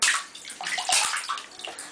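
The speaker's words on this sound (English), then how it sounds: "Are you splashing in the tub?" A young child splashes water in a bathtub, with sloshing and slapping splashes in quick irregular bursts, close and fairly loud.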